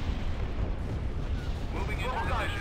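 Artillery fire in the Star Wars Empire at War strategy game, a dense rumbling barrage of booms and blasts that continues throughout at steady loudness.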